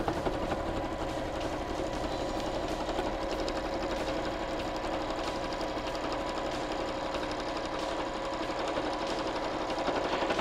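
A sewing machine runs continuously and steadily, closing the bottom seam of a 100% cotton floral fabric backpack, its fast even stitching hum close and loud throughout without pauses.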